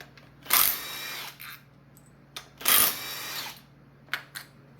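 Two bursts of a cordless power tool driving out 10mm bolts from an engine bracket on a 2013 Ford Edge 2.0 turbo during teardown, each whir roughly a second long, close and loud, with short clicks between.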